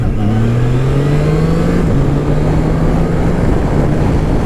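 A Triumph Tiger Sport 660 motorcycle engine drones loudly and steadily at cruising speed, its pitch rising slightly, then dipping and levelling out, with heavy wind rush throughout.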